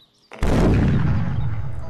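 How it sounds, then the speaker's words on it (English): A sudden, heavy explosion of a quad jumper starship being destroyed in X-Wing 2nd Edition on Tabletop Simulator bursts in after a brief quiet moment, then rumbles on loudly with a crackling, booming tail. "that is the sound"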